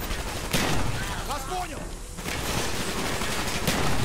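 Rapid gunfire rattles through a Call of Duty Black Ops campaign firefight, dense bursts of shots close and loud with a brief lull in the middle, while a player talks over the action.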